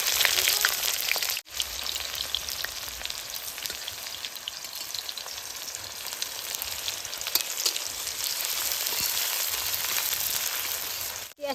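Bay leaves, dried chilies and cumin fry in hot oil in a heated wok for duck curry, giving a dense, continuous close-up sizzle with one brief dip near the start.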